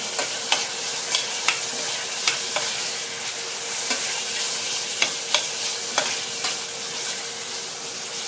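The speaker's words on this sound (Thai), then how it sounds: "แล้วจะใส่หมูสามชั้นไปผัดก่อน" Pork belly stir-frying in a pan gives a loud, constant sizzle, broken by regular scraping strokes of a spatula about twice a second.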